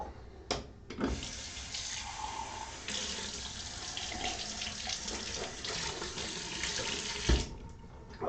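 Tap water running into a bathroom sink, a steady close splashing stream after a couple of brief clicks, flowing continuously before shutting off.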